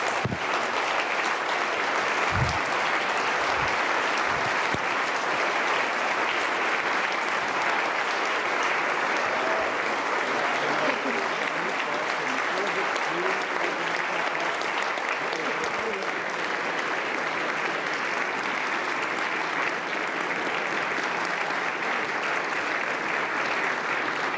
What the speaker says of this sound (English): give a round of standing ovations and applause to Mr. Ischlinger